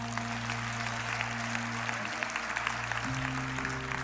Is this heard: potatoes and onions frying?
no